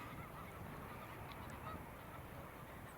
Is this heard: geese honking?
yes